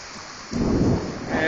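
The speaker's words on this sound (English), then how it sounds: "Heavy rain bands, heavy wind." Heavy rain and gusting wind roar steadily at an outdoor pumpkin patch during a thunderstorm, a dense, loud wash of noise that swells midway through.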